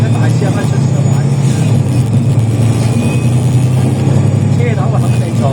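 The front of a bus on a route between Tin Yuen Court and Wo Che Estate in Hong Kong fills with a loud, steady engine drone and road rumble that runs unbroken, with people talking nearby over it.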